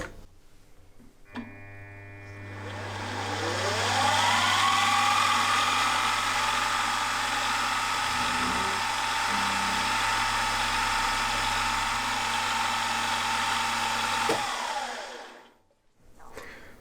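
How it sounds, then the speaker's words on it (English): A milling machine spins up and runs steadily as a 5mm end mill spots a not-quite-flat surface on a metal lifter block for a model V-twin engine. A whirring motor hum rises, holds for about twelve seconds, then winds down. "I'm just going to spot it with this 5mm end mill first of all"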